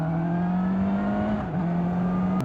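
A KOVE 450R motorcycle engine holds a steady, loud, close buzzing drone, with its pitch dipping briefly as it eases off and then settling again.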